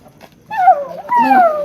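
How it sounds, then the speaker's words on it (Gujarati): A dog lets out two drawn-out, whining yelps in quick succession, close and fairly loud, with quiet background noise before them. "અલા કૂતરો"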